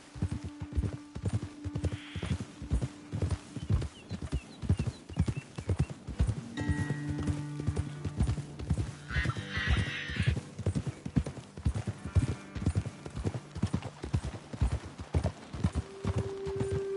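Steady clip-clop of horses' hooves trotting at an even rhythm throughout, with a horse whinnying briefly partway through, in the video game Red Dead Redemption 2.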